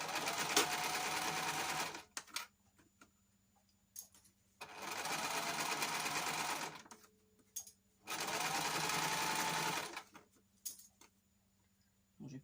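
Sewing machine stitching a backstitch on junk journal pages, in three loud, even bursts of rapid whirring, close up, separated by short pauses with faint clicks and handling.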